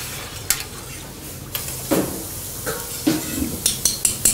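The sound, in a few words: stirring sugar into a barley drink mixture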